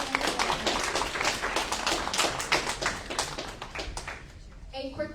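Audience applause for panelists at an AAPI climate justice town hall, a dense crackle of many clapping hands filling the room steadily before a voice begins speaking near the end.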